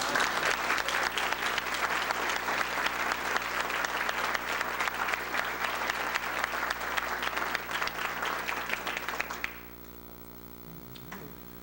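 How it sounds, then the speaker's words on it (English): An audience at a retirement party applauds loudly and steadily for about nine seconds, then the clapping stops abruptly, leaving a quiet room with a faint tone. "what I would like to do is have you all give them a round of applause"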